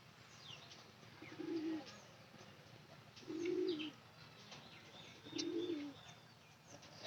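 Domestic pigeon cooing in a loft, three low, rolling coos spaced evenly a couple of seconds apart, fairly close, with faint chirps and background noise between them.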